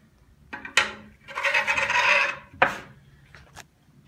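A heavy milled miter gauge slides into a standard 3/4-inch miter slot on a Grizzly G0771Z table saw, making a rasping metal scrape with a couple of sharp clicks and knocks, close up and alone.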